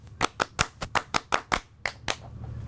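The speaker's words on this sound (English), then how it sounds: "let's clap together" A small group claps together in unison, about a dozen sharp, evenly spaced claps in a quick rhythm, close and clear, ending with a brief pause and a final couple of claps.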